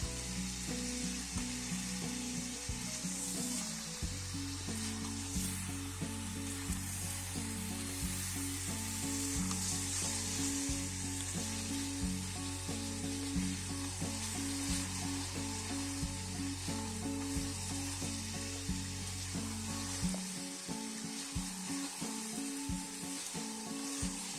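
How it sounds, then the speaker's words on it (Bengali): Spice paste fried with chicken and elephant foot yam in a pan, a steady close sizzle with repeated stirring scrapes and knocks, alone without talk, and a low hum that stops near the end. "এবার আমি মশলাটাকে ভালো করে মাংসের সঙ্গে কষিয়ে নেবো"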